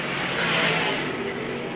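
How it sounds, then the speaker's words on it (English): Race car engines roaring on a dirt speedway at night, a dense, steady wall of engine noise from cars circling close by with no distinct passes standing out. "4 to go for Decker, who now can hear the engine of the number 98H of Jimmy Phelps behind him"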